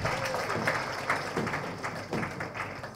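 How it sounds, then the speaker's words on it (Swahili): Applause from an audience at a national stakeholders' meeting with a minister, a steady patter of clapping with uneven thumps and taps mixed in, fairly close and continuous for a few seconds. "Makofi tafadhali."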